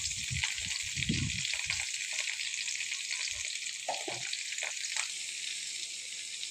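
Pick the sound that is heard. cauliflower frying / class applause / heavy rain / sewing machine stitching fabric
cauliflower frying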